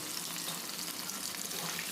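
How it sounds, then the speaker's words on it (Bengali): Pomfret fish fries in hot oil, giving a dense, steady sizzle that stays loud and close from start to finish with no voices. "এই মাছটা ভাজতে বেশি সময় লাগে না তাড়াতাড়ি ভাজা হয়ে যায়"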